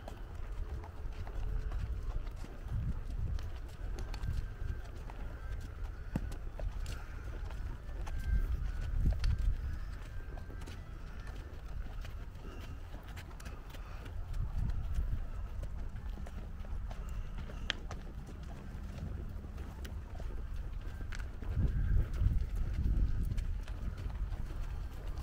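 A group of horses out on a western horseback ride gallops past, hooves drumming in a continuous, uneven clatter that swells and fades in waves over a steady outdoor rumble, with occasional faint voices.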